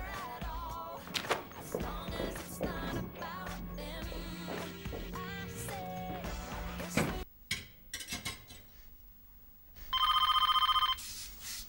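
A telephone rings near the end, a short loud trilling ring that comes in after a stretch of music and scattered clatter, standing out clearly on its own.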